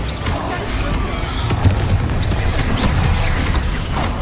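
Bombarda spell blasts in Hogwarts Legacy come as a steady rumbling barrage of booms and crashes that blend into continuous loud low-end noise, with scattered sharper bursts on top.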